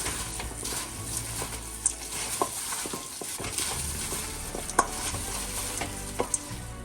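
Chicken for biryani is mixed with garam masala, cumin powder and salt, giving close, steady stirring and squelching with scattered clinks of a spoon against the vessel, and no one speaking.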